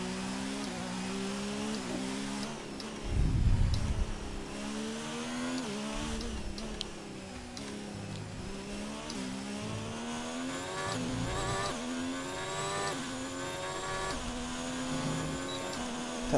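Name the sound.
car engine revving in F1 2019 video game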